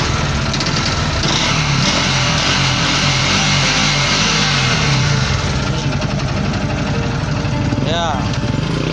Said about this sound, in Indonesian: Mesinnya nih, kita gas nih.